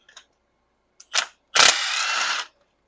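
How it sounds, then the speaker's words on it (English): An impact wrench removes spark plugs from a first-generation Toyota Tundra, a few short clicks before a brief buzz and then a sustained loud rattling whir lasting about a second, close up with no talking. "I'm going to grab my impact and the spark plug socket."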